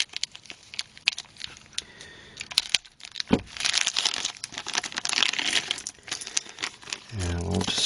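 A plastic parts bag from a DeAgostini Hummer H1 model kit is sliced open without scissors, with crinkling, rustling and sharp crackles, and a few small parts clatter loudly near the end.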